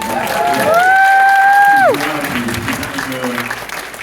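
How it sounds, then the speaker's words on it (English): Applause and cheering from a crowd at a moderated Q&A with an actor, steady and moderately loud, with a sustained whistle-like tone and voices rising over it. "So can we have a round of applause?"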